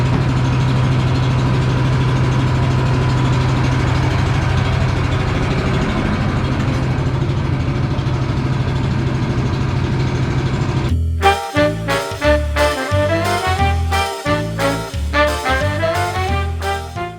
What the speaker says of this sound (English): Honda engines never disappoint